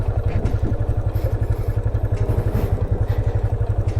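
A motorcycle climbs a steep hill road toward the Kargil viewpoint in Guwahati, its engine throbbing in a steady, close, low pulse with light mechanical clatter and no talking.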